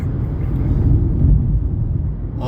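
A car cruising on a Haryana national highway at 80 km/h makes a steady, loud low road and engine rumble throughout, with no clear talking.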